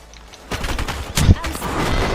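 Gunfire in the video game Fortnite, a dense burst of rapid shots with a sharp louder crack midway, continuing as steady rattling fire that stays up close and loud.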